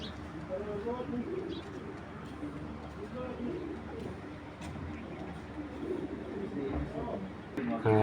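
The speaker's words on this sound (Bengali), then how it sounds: "হ্যাঁ, এই কবুতরটা" A pigeon coos repeatedly close by in a loft, soft throaty rolling calls recurring through the stretch, while someone talks over them and small chirps sound in the background.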